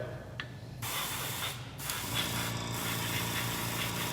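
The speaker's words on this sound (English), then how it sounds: "So I'm spraying over my red" Continuous hissing spray of colored cocoa butter from an airbrush or spray gun, with brief pauses and restarts, close and steady over a low mechanical hum.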